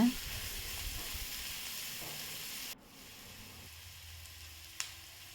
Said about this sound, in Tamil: ஒரு ரெண்டு பெங் பெரிய வெங்காயம் நைஸாக அரிஞ்சிட்டு அதை அப்படியே வதக்கலாம்